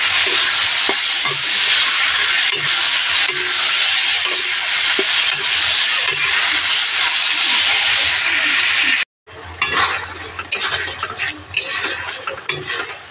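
Pointed gourd curry with tomato frying in a pan while being stirred, a loud continuous sizzling hiss with soft scrapes of the spoon, briefly cutting out before the sizzle and stirring resume more unevenly.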